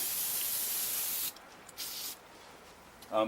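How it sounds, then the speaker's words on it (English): A can of AutoZone brake cleaner sprays in one loud, sustained hiss for over a second during a brake rotor and pad job on a 2007 Chrysler 300C. Short bursts follow, then a brief voice at the end. "This is basically just AutoZone brake cleaner."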